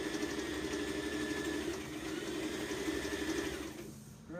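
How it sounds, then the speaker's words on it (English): A sewing machine stitches right along the edge of a dress with a steady, close mechanical whir that slows and stops near the end. "You see I stitching right to the edge of my dress."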